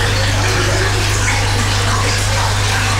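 Water keeps pouring from damaged pipes in a flooded basement, a loud, unbroken gushing flow over a steady low hum, with no one speaking.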